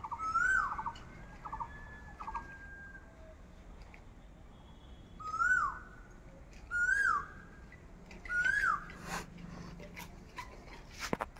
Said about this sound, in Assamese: কুলি চৰাই মাত কিমান ধুনীয়া আৱাজটো